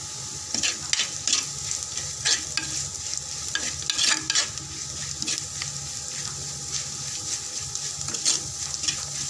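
Fish masala being mixed into a Kerala-style fish curry, with a continuous close sizzle and frequent rhythmic spoon scrapes and clinks, plus a watery bubbling undertone throughout.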